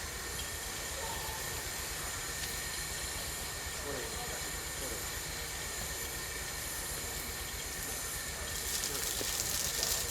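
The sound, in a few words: Indian-built diesel locomotive on Burma railway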